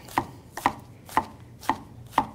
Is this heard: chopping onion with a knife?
yes